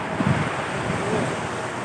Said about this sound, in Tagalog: Dagat dito, Brad, no?